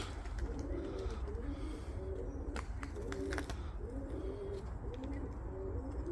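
Pigeons coo in a repeated soft, throaty rhythm over a steady background hum, with a few faint clicks in between.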